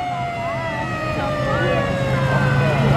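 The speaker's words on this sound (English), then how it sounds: "Looks to be a Mac fire truck." An old Mack fire truck's siren wails in a small-town St. Patrick's Day parade, with rising and falling tones sounding loud and close over the steady rumble of the engine and crowd noise.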